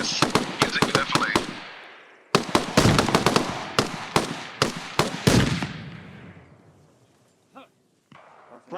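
Grenade blasts and rapid gunfire in a military shooter game, a run of sharp loud cracks and booms with echoing tails over the first six seconds, then quieter scattered thumps as the noise dies away.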